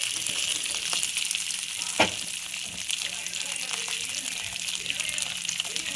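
Chopped cluster beans sizzle and crackle in a hot pan with chillies, cumin and tamarind, a steady fairly quiet frying hiss with one brief clatter as they go in.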